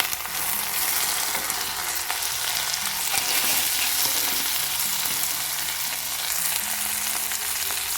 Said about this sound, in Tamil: இப்போ நான் ஒரு ரெண்டு தக்காளி மீடியம் சைஸ் தக்காளி எடுத்து கட் பண்ணி வச்சுருக்கேன் அதையும் இதில் போட்டுடலாம்